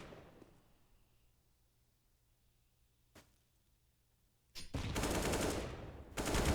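Tactical shooter game match: a faint single shot early, then a loud burst of rapid gunfire around the middle, a short pause, and another burst at the end.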